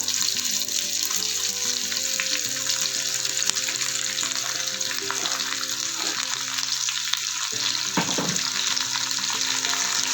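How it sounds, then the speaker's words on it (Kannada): Onions fry in oil with green chillies, curry leaves and ginger, giving a steady dense sizzle close up, with a brief clatter of stirring near the end and a faint tonal hum underneath. "ಈಗ ಈರುಳ್ಳಿ ಹಾಕಿಪ್ಪ ಇದಕ್ಕೂ ಅಷ್ಟೇ ಈರುಳ್ಳಿ ಸ್ವಲ್ಪ ಜಾಸ್ತಿ ಬೇಕಪ್ಪ"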